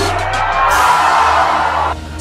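A loud, dense crowd roars and cheers at a lucha libre wrestling event, a sustained wall of whoops and yells that drops off slightly near the end.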